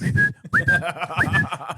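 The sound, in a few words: voice imitating a guard's whistle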